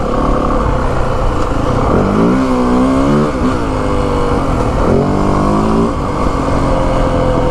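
A 2025 Yamaha WR 450F dirt bike engine revs hard in second gear, rising and falling in pitch through two distinct surges over a steady, loud, close engine drone.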